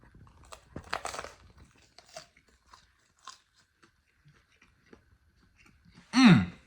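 Crunchy food is bitten and chewed up close, with scattered crunches early on and a loud burst of crunching near the end, separated by quiet stretches.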